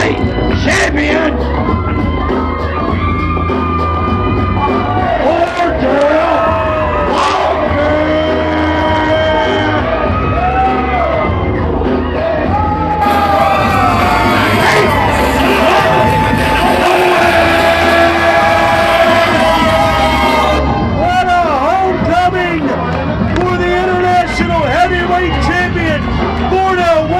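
Loud wrestling arena crowd cheering, whooping and shouting continuously as the international heavyweight champion comes to the ring, a dense roar of voices that swells and stays heavy throughout.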